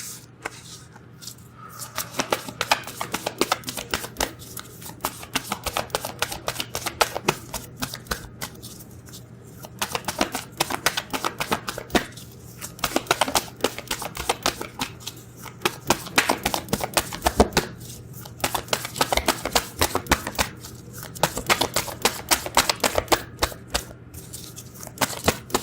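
Tarot cards are shuffled by hand in repeated bursts of rapid riffling and flicking that stop and start again, close and crisp throughout.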